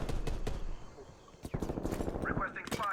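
Bursts of rapid FFAR rifle gunfire in Black Ops Cold War, loud close automatic volleys with short pauses between strings of shots, mixed with some voice.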